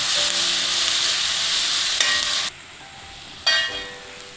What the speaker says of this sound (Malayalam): സവാളയുടെ ആ പച്ചപ്പ് നല്ലോണം ഒന്ന് പോവും ഇതുപോലെ വഴന്നാൽ മതി